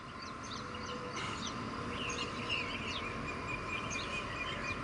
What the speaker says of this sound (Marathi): बघा सकाळी सकाळी पक्षी कशी ओरडायला लागलेत.